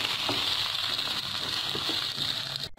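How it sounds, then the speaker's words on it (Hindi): Meat being fried bhuna-style in a pot for degi aloo gosht, a steady, fairly quiet hissing sizzle with faint stirring bumps underneath; no voices. "एक से 2 मिनट के लिए इस तरह इसे भूनेंगे।"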